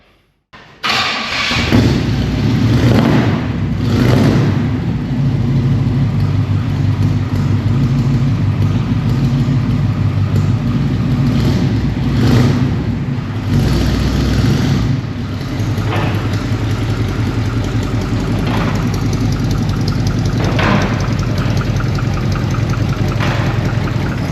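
A 1980 Pontiac Grand LeMans engine catches after a brief start and then runs steadily at a loud, close idle, with a few rises in revs and no talking.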